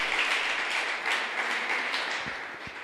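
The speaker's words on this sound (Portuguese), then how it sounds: "Você pode aplaudir o Senhor?" A church congregation applauding during a service: dense, steady clapping that fills the room without a break and fades slightly at the end.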